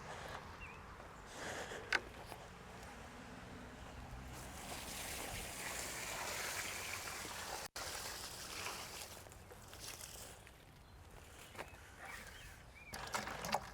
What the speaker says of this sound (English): I'm just rinsing out my bucket here